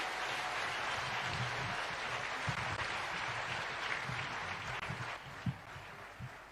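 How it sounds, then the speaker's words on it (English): A crowd applauds the President of Kenya, clapping continuously in a dense, even patter, somewhat distant and soft, with a few louder claps standing out near the end. "I request all of you to be upstanding and help me with applause to welcome the President of the Republic of Kenya, Dr. William Samoei Ruto."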